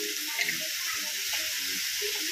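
Red chili powder hits hot oil in a pan of Marathi-style potato curry (batata bhaji), giving a steady, close sizzle and frying hiss that runs the whole time, with no voices.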